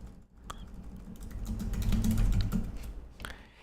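Rapid keystrokes on a computer keyboard as someone types out a comment, a close, busy patter of clicks that builds to a dense flurry and then slows to a few final taps.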